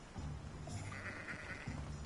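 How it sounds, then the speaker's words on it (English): Sheep bleating in the Hogwarts Legacy video game world, a couple of moderate bleats over steady game ambience, with no talk. "There's a sheep."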